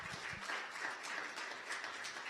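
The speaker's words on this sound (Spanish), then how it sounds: "Denle un fuerte aplauso al Señor" A church congregation applauds together, a faint, dense wash of clapping heard from a distance with no voices over it.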